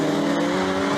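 Rallycross cars racing at Lydden Hill, including a BMW Mini Countryman and a Mitsubishi, a loud sustained engine roar with a steady droning pitch, close and unbroken for the whole second.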